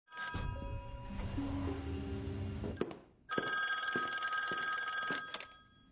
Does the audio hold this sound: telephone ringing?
yes